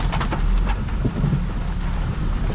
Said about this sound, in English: look at this rain, look at this weather.